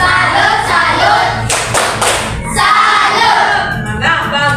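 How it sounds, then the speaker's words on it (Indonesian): Rhythmic group clapping from a class doing a patterned 'salut' cheer clap during a lesson, loud and close, with bursts of patterned claps and a brief pause midway, no voices heard. "Kepada Maura dan Doni, coba kita berikan tepuk salut dulu."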